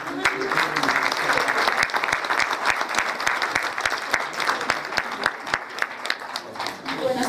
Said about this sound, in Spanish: La vamos a recibir con fuertes aplausos.